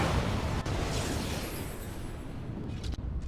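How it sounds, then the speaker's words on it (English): Booming explosion from the fantasy role-playing game Dragon Age: Origins, a loud, dense blast with sharp cracks that rumbles on and slowly fades, heard alone without talk. "Another explosion?"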